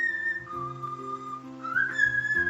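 A cockatiel, a male, whistles a sustained, sliding melodic note that steps down, holds, then rises again, fairly close and clear over a soft steady tonal background with no talking.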